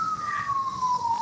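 An ambulance siren sounds steadily, one long tone sliding gently lower in pitch as it passes, clear and moderately loud with no talking.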